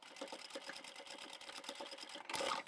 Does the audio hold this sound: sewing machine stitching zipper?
yes